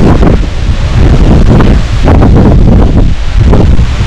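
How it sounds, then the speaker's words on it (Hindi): Strong wind buffets the microphone on an open mountain summit near a temple at Bazmar Top, Abbottabad, a loud continuous roar with gusting swells and no speech. "कितनी तेज देखे हवा चल रही है।"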